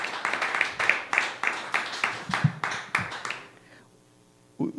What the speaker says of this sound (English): Another hand of applause if you would.